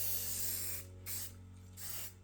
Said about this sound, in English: hit that with some primer quick, and just so we aren't rusting away